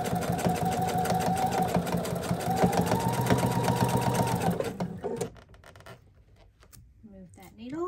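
A sewing machine runs a straight stitch along a marked line on a quilt, a close, fast, even whirr for about five seconds before stopping, followed by quiet handling and a voice speaking.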